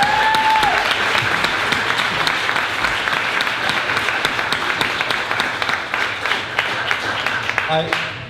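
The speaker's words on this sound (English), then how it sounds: "let's have one more round of applause for our speakers tonight" Sustained applause from an audience at an evening gala honoring the night's speakers, dense steady clapping filling the room throughout, tapering slightly near the end.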